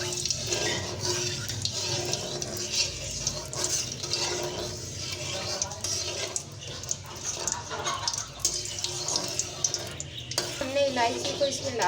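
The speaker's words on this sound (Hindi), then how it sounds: "इलायची को इस तरह खोल लिया था। ये अब हम इसमें डालेंगे और थोड़ा सा ही फ्राई करेंगे।" Opened cardamom pods frying briefly in hot oil, a soft crackling sizzle mixed with stirring, scraping and clinks of a utensil against the pot, with a voice talking intermittently over it.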